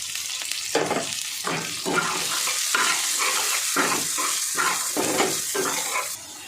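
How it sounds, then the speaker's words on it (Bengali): Chopped carrots and beans frying in a pan for an oats pulao while being stirred, a continuous close sizzle broken by repeated scraping and tossing strokes of the spatula. "এবার আমি গাজরটা দিয়ে দেবো। গাজর আর বিনস একসঙ্গেই দিয়ে দেবো"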